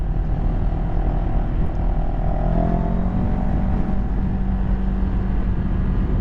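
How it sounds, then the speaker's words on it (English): Steady, continuous engine drone from a 2023 CFMoto 700CL-X motorcycle while riding, with a low rumble and faint tonal whine, loud and unbroken throughout, more engine noise than exhaust. "The engine's actually got more engine noise than exhaust noise."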